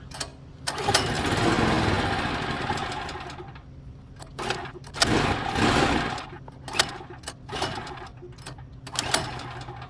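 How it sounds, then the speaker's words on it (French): Small generator engine running out of fuel as it burns the last gasoline in its carburetor, a loud sustained sputtering run that breaks into uneven surges and stutters, close up. "c'est tout en train de brûler le gaz qui reste dans le carburateur"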